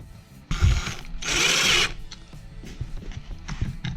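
Impact driver running in engine bolts on a 2004 Yamaha YZ250F dirt bike engine, heard as two short, close, loud mechanical whirring bursts followed by lighter clicks and tool handling.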